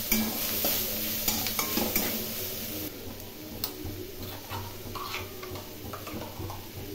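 Pointed gourd and prawn curry stirred and fried with grated coconut, giving a continuous close sizzle with scraping spoon strokes and light clinks against the pan, no talk.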